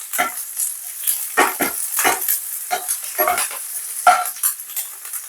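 Onion and a bit of thyme going into warm oil for Jamaican callaloo produce a series of short, bright sizzling bursts, each swelling and fading as the pan is stirred, with quiet gaps between them.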